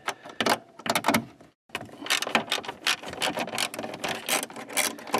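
Ratchet wrench backing out 8mm fasteners from the tail lamp assembly of a Mercedes-Benz W140 S-Class, a close run of rapid clicking ratchet bursts with a short pause early on.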